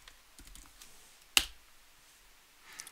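Quick keystrokes tapped on a computer keyboard while entering a sudo apt install command, a handful of soft clicks followed by one sharp, louder key strike near the middle, then quiet.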